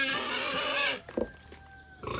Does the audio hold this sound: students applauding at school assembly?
no